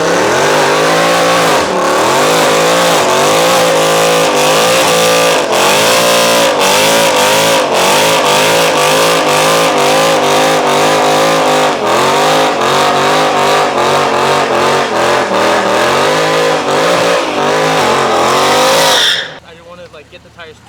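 An old BMW doing a burnout, the engine held at loud, wavering high revs with rising and falling pulls and tire squeal for about nineteen seconds before cutting off abruptly, with voices shouting over it.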